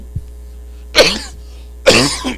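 Two harsh coughs about a second apart, close and fairly loud, each with a rough throaty rasp, after a faint short click at the start.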